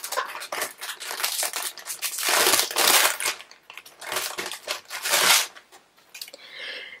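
Crinkly plastic packaging of card-making dies being opened, loud crackling and crumpling in repeated bursts close by, with brief pauses between handling.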